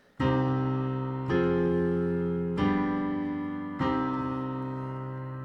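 Four sustained chords played one after another in a minor key, a primary triad progression with each chord struck and left to ring and fade, evenly spaced and close with no speech, likely on piano.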